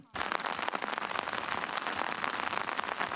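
Heavy rain pours down steadily, a dense close hiss of drops hitting surfaces that starts abruptly and continues without pause.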